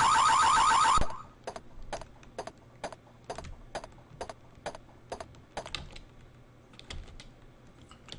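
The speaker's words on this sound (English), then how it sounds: "I enter the room, setting off an alarm." A short electronic alarm blares in the Mean Streets video game for about a second, then gives way to a regular series of sharp clicks, like a beat or key taps, at a steady moderate pace.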